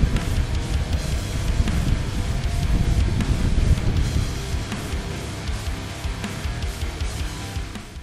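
Strong wind roars steadily and loudly across an outdoor microphone, a dense, continuous buffeting rush with gusty swells and no pauses.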